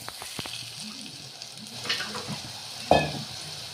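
Ginger garlic paste sizzles in hot oil with onions for a Nagpur-style dal kanda, a soft steady fry with stirring scrapes and one sharp louder splash of frying near the end.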